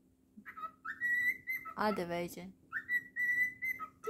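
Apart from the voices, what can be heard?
cockatiel whistling a tune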